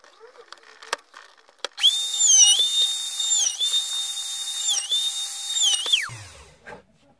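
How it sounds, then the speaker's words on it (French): A high-pitched power drill whines steadily, boring a hole through the full thickness of wood for a cigar box resonator ukulele, briefly dipping twice, then winding down after a few light taps. "Je vais percer un trou qui fait toute l'épaisseur"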